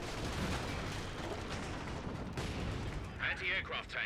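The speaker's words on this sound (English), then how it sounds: "Grenades being thrown, but misses the blob." Grenade blasts and gunfire from a World War II real-time strategy battle in a 4v4 tournament match, a dense rumbling wash of shots and explosions with a few sharper crackling bursts near the end, while a commentator talks over it.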